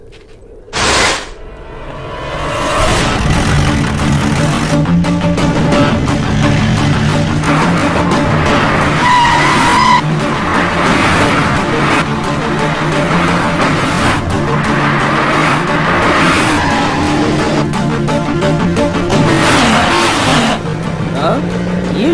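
Several cars race in at high speed with revving engines and skidding tires, the loud roar sustained throughout after a brief sharp burst at the start, with voices talking over the din.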